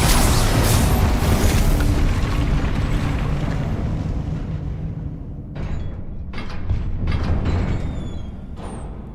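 An Incendio fire spell in Hogwarts Legacy bursts as a loud roaring blast that fades over several seconds. A few sharper crackles and pops follow near the end.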